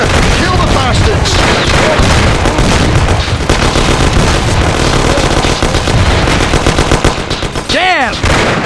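Loud, dense gunfire in the video game Mafia: The City of Lost Heaven, rapid machine-gun bursts and shots with booms in a chaotic firefight, with shouting voices mixed in.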